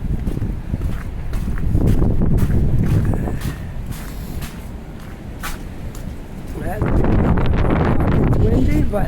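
Strong wind blows on a very windy day in Halifax's North End, buffeting the microphone in heavy low rumbling gusts that rise, ease off in the middle and then surge again, mixed with footsteps on the street.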